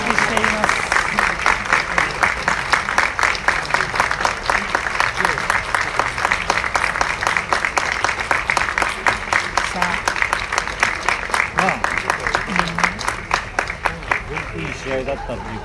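A full stadium crowd applauds at the end of a 2018 amateur soccer cup match, Nankatsu SC versus Toho Titanium, sustained rhythmic clapping throughout with commentators talking over it.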